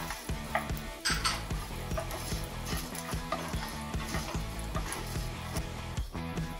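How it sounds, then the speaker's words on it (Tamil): Coconut and tamarind for a mint chutney are sautéed in a pan, a spoon scraping and clinking against the metal in quick, irregular strokes over a soft, faint sizzle. "புளியும் சேர்த்து நம்ம நல்லா வணக்கிக்கலாம்"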